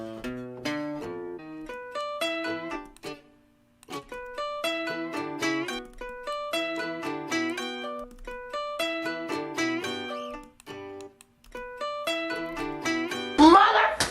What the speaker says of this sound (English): I took the lead guitar part and I exported it